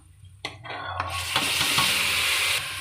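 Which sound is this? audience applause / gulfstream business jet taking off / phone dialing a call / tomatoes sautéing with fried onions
tomatoes sautéing with fried onions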